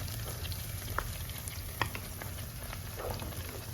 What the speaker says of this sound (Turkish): Soğanlarım kavruldu.